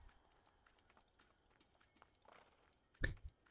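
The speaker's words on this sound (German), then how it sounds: "Das Pferd kommt ja auch noch hinterher" A horse's hooves in the video game Assassin's Creed follow the player, soft clopping steps building up then two louder close thuds near the end over a quiet background.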